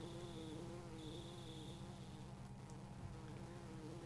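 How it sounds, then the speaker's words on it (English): A bee buzzes in the retro role-playing game Earthbound, a faint electronic droning hum with wavering tones that rise and fall, running steadily throughout. "A buzzing that sounds like a bee"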